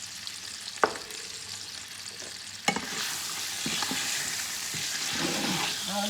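Onions and spices frying in a pot for a cauliflower tagine in white sauce, with a couple of sharp utensil knocks against the pot, then a steady sizzle as the stirring continues, close and without talk.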